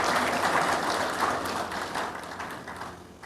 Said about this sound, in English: Ladies and gentlemen, that's where you clap.